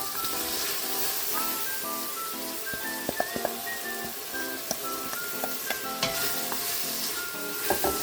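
Garlic, onions and ginger fry in melted caramel over low heat, a bright steady sizzle broken by sharp clicks and scrapes as a utensil stirs the pan.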